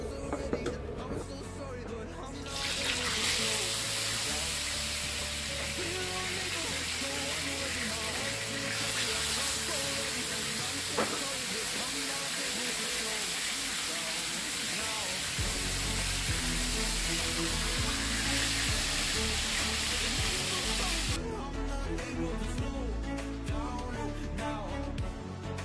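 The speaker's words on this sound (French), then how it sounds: "Je vais le frire à la poêle" Fish fries in a pan with a loud, continuous sizzle and crackle up close, overlaid at times by a broad hiss like an extractor hood, while someone talks faintly.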